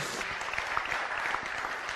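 Audience applause at a spiritual talk, a short burst of dense, steady clapping from a gathered crowd, fairly close and even in loudness for its whole length.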